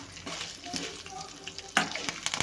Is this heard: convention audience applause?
no